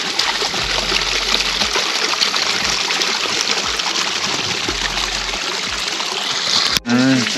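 Spring-fed mountain stream in the humid sierra of Baja California Sur flows with a steady, close broadband rush and trickle throughout, ending in a brief handling bump.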